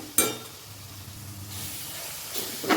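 Masala spices of chili powder, coriander powder and garam masala sizzle and hiss steadily in hot oil for an ivy gourd curry, with a sharp stirring clatter at the start and near the end.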